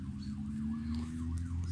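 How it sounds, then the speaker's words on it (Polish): A distant ambulance siren wails in a smooth rising-and-falling pattern near a beach at Żółtańce, Poland, faint against a low steady background rumble. "A tam gdzieś jedzie karetka."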